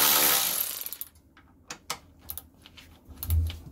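A Draper Storm Force 10.8V 3/8 cordless ratchet whirs briefly on stubborn bolts, then gives way to scattered clicks and knocks of handling, close up.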